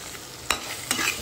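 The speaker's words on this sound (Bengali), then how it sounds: "আমি সমস্ত কিছু মশলার সাথে ভালোভাবে মিশিয়ে নিচ্ছি" Prawns and potatoes with turmeric, Kashmiri chilli, salt and sugar are stirred in a pan over low steady frying, with two sharp spatula scrapes against the metal.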